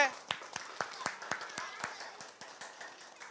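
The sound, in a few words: children clapping hands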